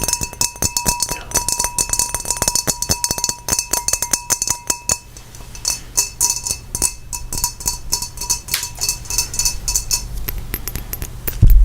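Glass objects handled up close for ASMR, with a steady run of bright clinks, taps and chimes in quick irregular succession, ringing tones lingering between hits, ending on a louder knock.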